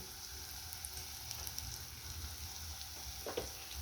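Curry leaves sautéing in hot oil for a spicy Marathi-style cowpea pod stir-fry, giving a steady faint sizzle with a brief louder crackle near the end, alone without talk.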